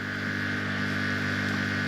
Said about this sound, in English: that noise you hear in the background is our electric pump pumping the oil out of the other engine